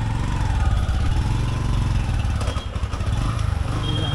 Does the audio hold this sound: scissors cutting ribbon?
no